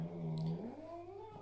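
A cat grumbles and meows up close, a drawn-out complaining cry that slides and wavers in pitch, heard alone with no talk.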